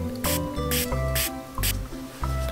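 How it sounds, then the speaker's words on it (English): A spray bottle mists water over seeds inside a terrarium jar, giving four short, evenly spaced hissing spritzes over soft background music. "Let's spray a little water over the seeds."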